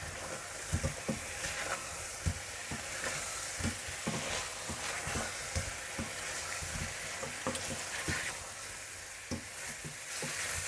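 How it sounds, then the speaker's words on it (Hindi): Chicken kebabs fry in masala in a karahi, a steady close sizzle broken by repeated scraping and stirring knocks, with no talk. "और इन्हें थोड़ा सा भून लीजिएगा।"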